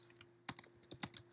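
Quiet, close keystrokes on a computer keyboard while writing a job posting for a website, a quick irregular patter of a few taps over a faint steady hum.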